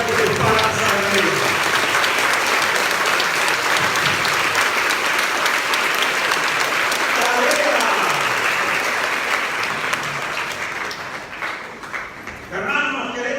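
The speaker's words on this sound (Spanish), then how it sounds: "Dale fuerte tus palmas a Él" A congregation's loud, continuous clapping at a religious inner-healing workshop, holding steady before tapering off as a voice begins speaking.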